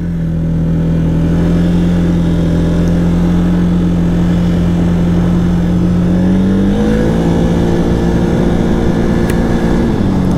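Can-Am Outlander 700 quad engine revving up steadily and loudly with a smooth rising pitch as it accelerates from about 50 to 70 km/h, close and continuous with no talk.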